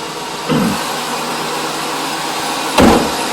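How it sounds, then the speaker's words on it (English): A 2005 Chevy 1500 pickup truck engine idles steadily with a broadband hum, interrupted by two brief louder whooshes; the truck has a coolant fan relay 2 control circuit fault. "Alright, vehicle running."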